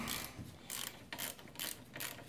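Hand tool with a 6mm hex bit loosening a brake caliper slider bolt on the front brakes of a Yamaha Grizzly 450 ATV, heard as a close, rapid ratcheting clicking in about five short bursts.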